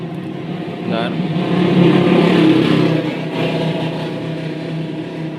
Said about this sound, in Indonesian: agak berisik dari lalu lalang kendaraan karena kandang saya ini kan di pinggir jalan yang cukup ramai gitu